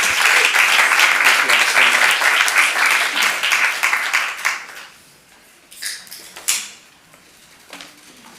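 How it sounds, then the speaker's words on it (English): Another round of applause rises at a city council meeting, a room full of steady clapping that thins out into a few scattered claps and small knocks and shuffles, with faint voices afterward. "Everyone give them one more round of applause."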